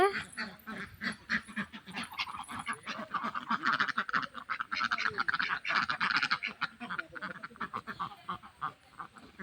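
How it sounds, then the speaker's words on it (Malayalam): Ducklings quack and peep in a busy, overlapping chorus, rapid little calls repeating close by for several seconds. "നിറച്ച് താറാവ് കുഞ്ഞുങ്ങളൊക്കെ ഉണ്ട് ഗൈസ് ഇവിടെ"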